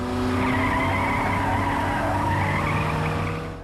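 Car tires screech loudly and continuously as a car swerves violently from side to side, a sustained skidding squeal with engine noise underneath.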